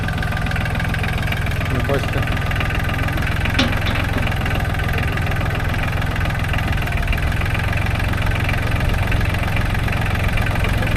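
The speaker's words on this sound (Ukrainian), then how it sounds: "Є такі міні-трактора." A mini tractor engine idles steadily throughout with a continuous low rumble and chug, while a voice speaks briefly over it, at an outdoor agricultural machinery expo in Vinnytsia.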